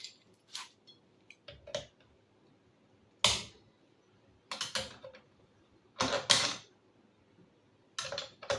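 A carriage bolt on a pressure washer handle is tightened, producing a few close, sharp metallic ratcheting clicks and creaks in short separated bursts, with near silence between them.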